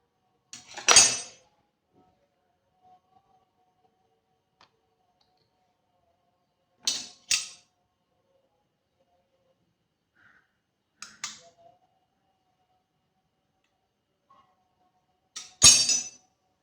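Vitamin E tablets being mixed into a soap mixture in a bowl give four sharp, separate clinks and scrapes spaced several seconds apart, close and clear in an otherwise quiet room.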